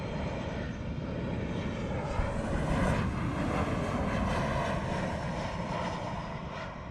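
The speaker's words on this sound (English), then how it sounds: "the sweet sound of the modern aircraft engine" A jet airliner's engines roar steadily and loudly at Montego Bay airport in Jamaica, a broad continuous rumble with a rising whine that swells midway and then holds, with no talk.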